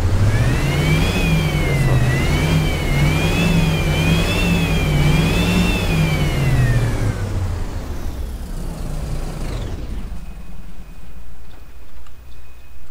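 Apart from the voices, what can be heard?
turbocharged bus engine revving, OMSI 2 video game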